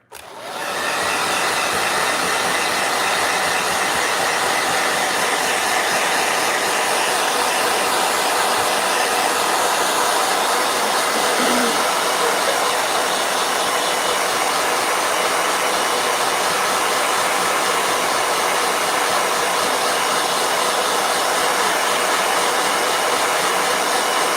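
A blow dryer starts abruptly and keeps up a loud, steady whooshing roar for over twenty seconds, alone and close by, with no talking.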